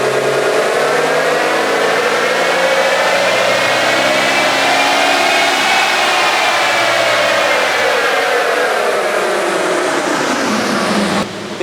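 A Nissan Patrol 4x4 engine runs hard on a dyno, its loud, steady drone climbing in pitch as it revs up, then easing back down before cutting off abruptly at the end.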